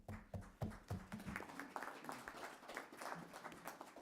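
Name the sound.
round of applause at a board meeting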